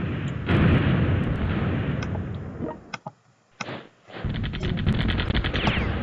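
Video game bombing and gunfire on an Eastern Front battlefield near Moscow: dense, continuous loud bursts and explosions. The barrage drops out briefly near the middle, then returns with sharp repeated shots.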